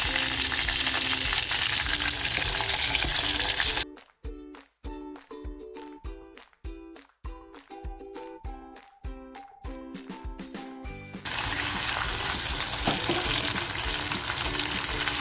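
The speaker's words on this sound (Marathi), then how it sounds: "आता जी वांगी आपण भरून घेतली आहेत ती वांगी सोडते" Dry-fish-stuffed brinjals frying in a hot pan with garlic and coriander, making a loud continuous sizzle with sharp stirring crackles in the middle, then a steady fry again.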